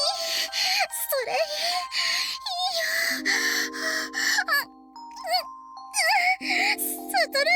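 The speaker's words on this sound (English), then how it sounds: "Those erotic moans and her deep panting." A woman's deep moaning and panting in a visual novel video game, breathy drawn-out vocal sounds with gasps, over soft music with held tones and light tinkling chimes.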